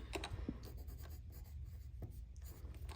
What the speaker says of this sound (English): the first thing you are gonna do is obviously write your name on the back of your paper